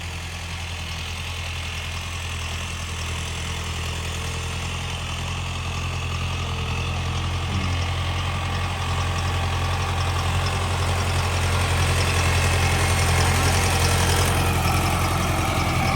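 A tractor idles in a rice paddy field, its engine a steady low rumble with a slight knock that grows a little louder over time, heard close and without talk.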